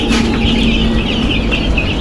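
Young chicks in a poultry shed clucking and cheeping, a steady busy chorus of many birds close by with a fan-like hum underneath.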